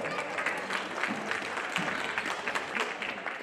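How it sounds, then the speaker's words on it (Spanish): Audience clapping at a rural village boxing event in Zacatepec Mixe, Oaxaca, a steady dense wash of applause from a crowd filling the whole stretch without a break. "aplausos"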